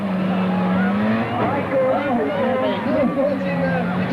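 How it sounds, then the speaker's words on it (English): Cars at a demolition derby rev and grind against one another, engines droning and tires squealing in a crowd of engine noise, with people chattering loudly over it throughout. "4 cars still managing to keep going here."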